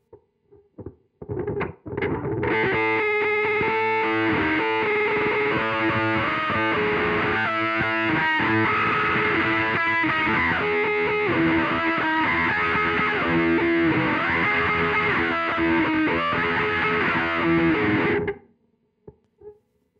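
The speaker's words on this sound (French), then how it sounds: "On peut aussi rajouter la distorsion." Synthesizer played through a Vite effects pedal with distortion added, a loud, dense, gritty sustained tone with rhythmic filtered pulses running steadily for about sixteen seconds after a few short opening notes.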